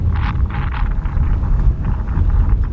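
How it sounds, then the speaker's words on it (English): Wind at O'Hare International Airport gusts across the microphone in a loud, continuous rough buffeting roar that swells and eases in uneven pulses. "Wind is still staying steady currently."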